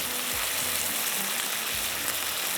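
Potatoes frying lightly in a pan with oil, giving a steady, soft sizzle that holds evenly throughout, with faint low clatter underneath.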